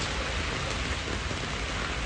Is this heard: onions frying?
no